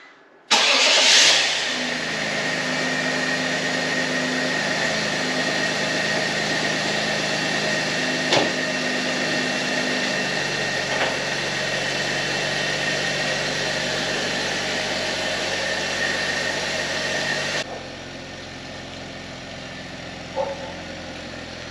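A BMW E83 X3 with the M54 inline-six idles steadily with a slight stumble, a loud, close, continuous engine drone that starts up at the beginning and drops in level near the end.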